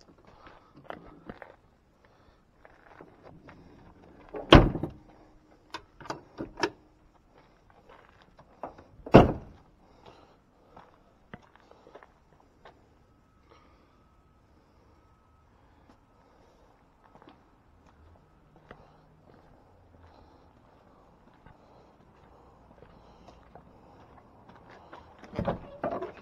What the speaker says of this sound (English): this door's got a hinges got a little play on.